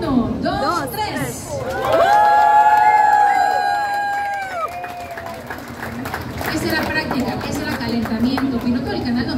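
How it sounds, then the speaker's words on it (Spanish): A lively crowd at the Panama Canal cheers and whoops loudly as a cargo ship passes, with clapping and chatter mixed in, a long rising shout swelling then fading into scattered applause. "un caluroso aplauso a la cuenta de tres"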